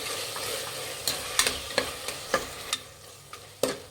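Tomatoes and peas fry in a pan for rice bath, with a soft sizzle under a series of distinct, irregular spoon scrapes and taps against the pan, close and fairly quiet.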